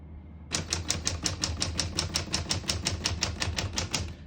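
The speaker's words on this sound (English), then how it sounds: "As you can see, all the keys type nice and none of them skip or stick." A 1938 Corona Standard portable typewriter types a steady run of about twenty crisp, evenly spaced key strikes, close and loud, with no voices.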